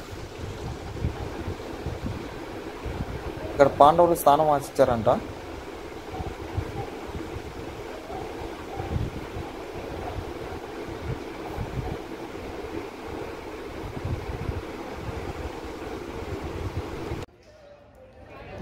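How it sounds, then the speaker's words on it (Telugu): Spring water flows steadily at Pandava Theertham in Tirumala, a continuous rushing wash heard close by throughout, with someone talking over it. "ఇక్కడ వాటర్ వస్తూనే ఉంది"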